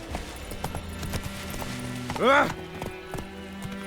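Roach the horse gallops in The Witcher 3, steady rhythmic hoofbeats under a game soundtrack, with a short vocal exclamation cutting in briefly partway through.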